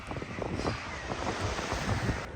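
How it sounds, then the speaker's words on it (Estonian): Sea waves breaking and foaming on the shore at Hiiumaa during a flounder fishing trip, a steady roaring wash of surf with heavy wind buffeting the microphone. "Laine murdub ja vahutab kõik korralikult."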